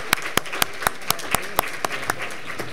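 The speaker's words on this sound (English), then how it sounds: "Please give our graduates another round of applause, please." An audience at a scholarship luncheon applauds graduating seniors, sharp claps ringing out at a steady rhythm over a room-filling wash of applause, fairly loud and close.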